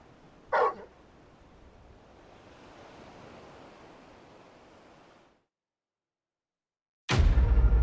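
Torgal the dog gives a short, sharp bark in Final Fantasy XVI over a soft wash of wind and surf, followed by a stretch of silence and then a loud burst at the end.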